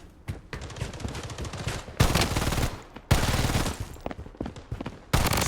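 Rapid automatic gunfire in the shooter game Blood Strike, dense bursts of shots cutting in and out with brief pauses between volleys, loud and close.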